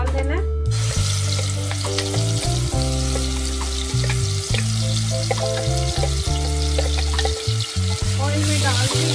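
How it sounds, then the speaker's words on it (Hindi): Chicken frying in vegetable oil, a loud, close sizzle that bursts in at the start and crackles steadily throughout, with stirring clatter, over a background music bed. "ऑयल में डाल के इसको आप हल्का सा फ्राई करें, साथ ही हम इसके अंदर चिकन ऐड कर देंगे।"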